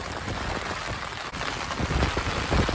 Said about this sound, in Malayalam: ഇതൊക്കെ എന്ത് മഴയാന്ന് നോക്കി